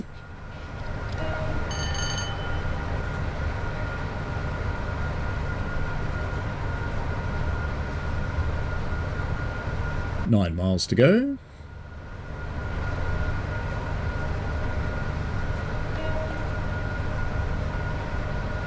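A Class 87 electric locomotive runs on the West Coast Main Line in a train simulator game: a steady rolling rumble with one short horn blast midway, while someone talks over it.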